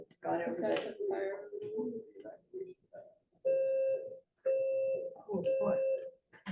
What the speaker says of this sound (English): We were interrupted with a fire alarm and had to evacuate